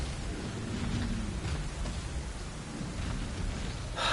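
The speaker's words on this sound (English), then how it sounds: "I can hear the sound of shattering thunderstorms" Rain pours in a heavy, continuous wash with low rumbling thunder beneath it during a storm in the Elden Ring video game's Dragonbarrow region, and no voices are heard.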